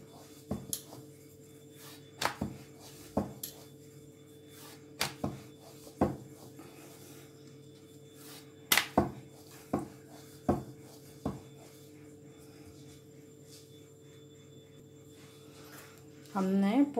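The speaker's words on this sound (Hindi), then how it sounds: "इसको हम बेलते हैं बिल्कुल इस चकले के बराबर।" Mathri dough is rolled out with a rolling pin on a wooden chakla board, giving a series of soft knocks roughly every second with faint rubbing between them over a low steady hum.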